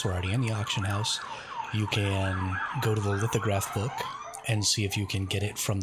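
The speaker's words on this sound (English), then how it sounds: "Sorry about the sirens." Emergency sirens wail outside, loud and wavering with repeated rising and falling sweeps, under someone talking steadily indoors over gameplay.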